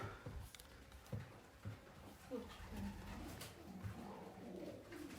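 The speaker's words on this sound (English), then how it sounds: "Pigeon orgy." Pigeons coo repeatedly inside an abandoned dairy farm building, a low soft warbling chorus that rises and falls over several seconds with faint scuffling and room echo, moderately close.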